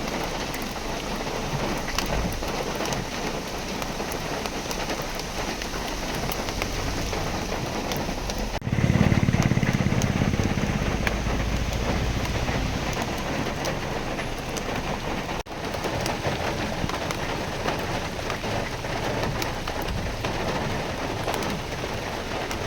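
Heavy rain falls steadily in a forest between Masinagudi and Bandipur, a dense continuous hiss with a brief low rumble partway through.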